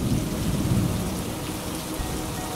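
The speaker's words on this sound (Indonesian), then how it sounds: "Tiba-tiba hujan." A sudden rain shower pours steadily and densely, a constant close hiss of falling drops on surfaces with no voices.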